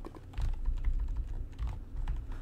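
A new, quiet computer keyboard is typed on in a steady run of soft, muted keystrokes, close and alone with no voices.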